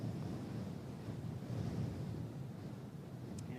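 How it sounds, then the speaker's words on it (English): Gusty wind at Christchurch Airport buffets the microphone in a steady, loud roar that swells slightly without pause, with no talk over it. "she's pretty gusty out here again"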